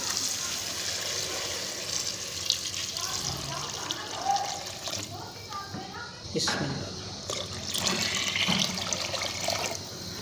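Water, about 1.5 liters, poured into a pressure cooker holding spiced goat trotters for paya curry, a steady splashing pour with gurgles and trickles while someone talks over it.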